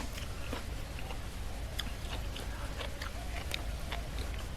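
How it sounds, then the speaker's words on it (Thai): Close crunchy chewing of cooked beef, a steady run of crisp bites and mouth clicks over a constant background rumble, with no clear speech. "อันนี้ยังเคี้ยวกรึบแต่ไม่เหนียวนะครับ"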